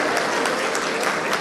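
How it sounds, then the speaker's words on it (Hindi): Audience at a mushaira breaks into steady, dense applause, a continuous wash of clapping from a large crowd, loud and unbroken with no speech over it. "आपसे भी हमारी गुजारिश है तालियों की गड़गड़ाहट में एक बार आप उनका इस्तक़बाल फरमा"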